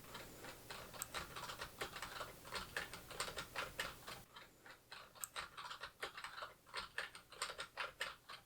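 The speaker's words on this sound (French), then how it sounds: "Test Bluesona frappe du clavier." Computer keyboard typing picked up by a Logitech Blue Sona microphone: a steady run of quick, crisp key clicks with irregular rhythm, close and clear, alone over faint background noise.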